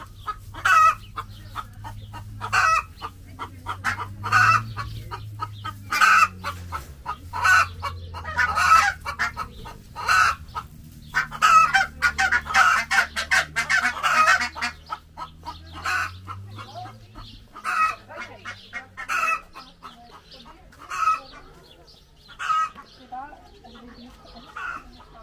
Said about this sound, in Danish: Små kyllinger, og det er nogle man kan tage op og sidde lidt med de her.